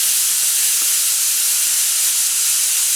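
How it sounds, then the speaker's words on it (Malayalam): Steam hissing hard and continuously from a pressure cooker whistle while turmeric water cooks for a Kerala nadan curry, a loud steady rush alone with no voices. "1/4 ടീസ്പൂൺ മഞ്ഞൾപ്പൊടി, വേവാനുള്ള വെള്ളം ചേർത്ത് 4 വിസിൽ വിട്ടെടുക്കാം."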